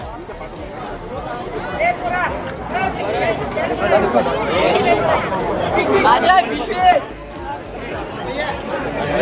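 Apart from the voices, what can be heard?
crowd chatter at a religious gathering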